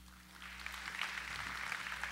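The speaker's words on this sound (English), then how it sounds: "Let's have a round of applause for that," Applause for steel pan player Richarde Bereaux at a Trinidad and Tobago national awards ceremony, a soft, distant patter of clapping from the audience over a low steady hum.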